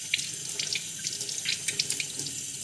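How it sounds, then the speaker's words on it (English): Hands being washed under a running kitchen tap at a sink, a steady rush of water with irregular splashes and spatters as the hands move through the stream. "Now I wash my hands."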